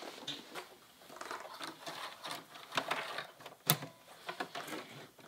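Sewing machine running a straight stitch through fabric for a kid's dress, a soft mechanical whir with a few sharper clacks and short pauses, close and fairly quiet with no talking.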